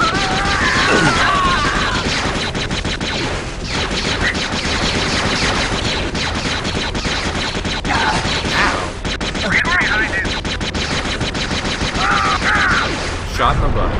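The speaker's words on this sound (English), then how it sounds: "They're trying to shoot me" Enemy gunfire in Star Wars Jedi Knight: Jedi Outcast, dense rapid bursts of shots crackling loudly and continuously amid combat noise, with occasional higher blaster-like zips.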